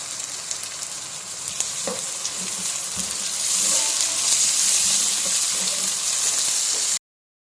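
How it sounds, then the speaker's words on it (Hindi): Two tomatoes go into a pan of fried onions for a quick onion-tomato curry, and a steady close sizzle swells louder midway with faint stirring scrapes and no talk. "अब इसके अंदर हम शामिल करेंगे 2 अदद टमाटर।"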